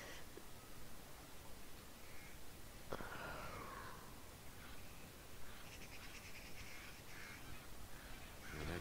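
Crows cawing in the stealth video game Thief, a few faint harsh calls over a constant hiss of background ambience, distant and quiet with no talking.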